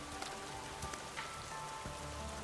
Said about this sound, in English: Only the sound of rain remains in the back alley.